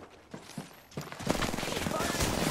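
Apex Legends gunfire: after a few sparse shots, a dense, continuous automatic volley rises and sustains to the end, loud and close, with a brief voice in the game mix.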